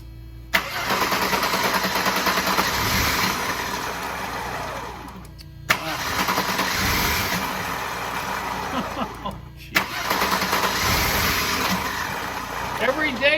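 A classic Mercedes-Benz with Jetronic fuel injection cranks over three times. Each attempt is a long, laboring grind of several seconds that catches slowly, with short pauses between, and people talk nearby.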